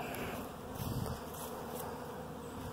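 Honey bees around a winter beehive in a bee yard: a dense, steady buzzing hum from many bees, close and continuous, with individual wingbeats rising and fading.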